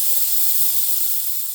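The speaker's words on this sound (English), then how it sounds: "And now let's do some test spray outs." An Inokraft spray gun gives a test spray, a continuous close hiss of air that holds steady throughout with no talk.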